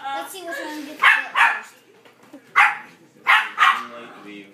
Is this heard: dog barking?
yes